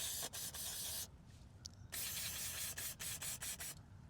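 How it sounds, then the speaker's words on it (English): Brake cleaner sprays through a thin straw onto the pivot points of truck power running boards, a loud steady hiss in two long bursts followed by several short puffs, close up. "Okay, and just spray like that."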